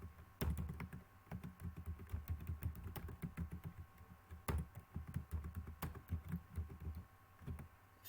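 Typing on a computer keyboard while working in an Excel spreadsheet, quiet, close, quick clicking keystrokes in irregular bursts with a few louder key hits and no talk.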